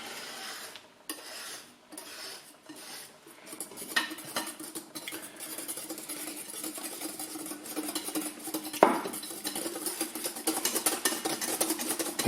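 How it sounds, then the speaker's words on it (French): Clarified butter worked little by little into two egg yolks for béarnaise sauce: quiet at first, then steady, rapid whisk scraping against the bowl that grows denser, with one sharper clank partway through. "j'incorpore mon beurre petit à petit, comme si vous faisiez une mayonnaise"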